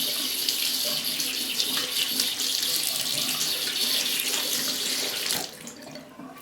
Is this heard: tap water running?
yes